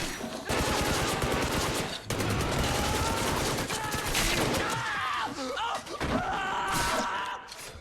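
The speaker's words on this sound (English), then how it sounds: "After dropping one with a shot, Rambo picked up a heavy steel pipe and kept pushing" Gunfire erupts in an action film scene, with bursts of sharp shots and impacts in rapid, irregular clusters, loud and dense, with brief gaps and some crashing noise between the volleys.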